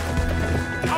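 Horse hooves clip-clop on the ground in quick, close steps during riding in Kyrgyzstan, with a faint rumble behind.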